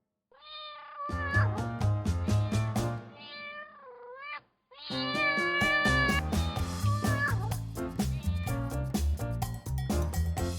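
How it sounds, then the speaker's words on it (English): A domestic cat meows repeatedly in clear, close, drawn-out cries with a brief pause midway, sounding loud and alone without any talking. "Cats meow to get attention, express their needs,"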